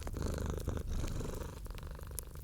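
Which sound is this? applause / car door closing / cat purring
cat purring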